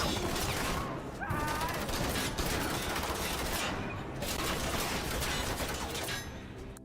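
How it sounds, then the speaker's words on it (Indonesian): Dense gunfire from Taliban troops fighting zombies in a film, a sustained barrage of overlapping shots and bursts that stays loud and continuous throughout. "suara tembakan yang berasal dari para pasukan Taliban telah membersihkan zombie-zombie"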